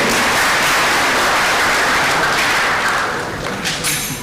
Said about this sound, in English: Another hand of applause for him.